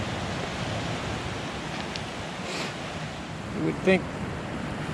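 Surf at Pirates Bay Beach on the Tasman Peninsula, near the Tessellated Pavement, makes a steady broad wash of waves with wind buffeting the microphone, while a person speaks briefly over it.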